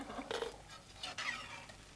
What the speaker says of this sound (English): It's such a heavy frying pan, I can't lift it up to get the damn thing out.